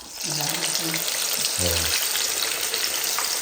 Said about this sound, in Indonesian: kita goreng ya ayamnya ya